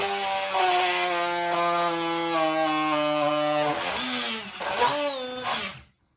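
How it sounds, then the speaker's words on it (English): A power drill whines at steady speed while boring into TPU plastic, its pitch sagging and wavering under load before it cuts off abruptly. "now we're gonna do a test with the drill"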